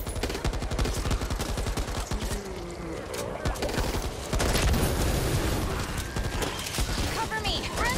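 In the Back 4 Blood video game, automatic gunfire rattles continuously in dense rapid bursts throughout, loud and close, with game voices calling out over it.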